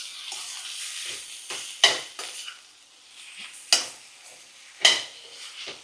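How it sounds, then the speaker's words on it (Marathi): Roasted okra tossed with salt and a little garam masala is stirred in a hot pan, a spatula scraping and knocking the metal in three sharp clanks over a soft, steady sizzle. "यामध्ये घालूया भाजलेली भेंडी, चवीपुरतं मीठ, अगदी थोडासा अर्धा चमचा गरम मसाला आणि आता याला चांगलं मिक्स करूया"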